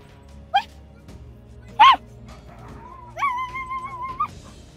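A dog in a village gives a few short yelps and whining cries, spaced apart and fairly close, over a quiet background.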